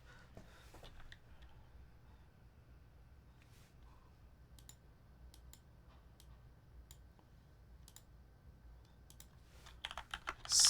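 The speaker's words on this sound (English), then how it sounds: "ambient keyboard noises." Computer keyboard typing during a late-night livestream about switch tuning: soft, irregular key clicks at a steady pace, close and quiet, alone, with a louder cluster of clacks at the very end.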